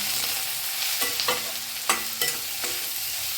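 Paneer cubes fry in oil in a pan for chilli paneer, a soft continuous sizzle broken by a few distinct scraping stirs and clicks of the spatula, near and without voices.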